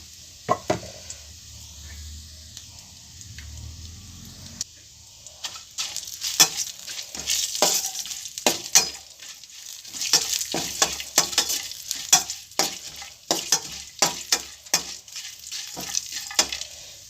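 Dried chillies, roasted gram, peanuts and poha frying in oil in a pan, a close sizzle under frequent sharp scraping and clacking stirring strokes that come in quick irregular bursts.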